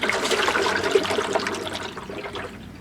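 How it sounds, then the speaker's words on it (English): Water sloshes and trickles inside the balancing ring of a washing machine drum being turned by hand, a steady close wet swishing that fades slightly toward the end. "So if you hear that water moving around, that's nothing more than a balancing"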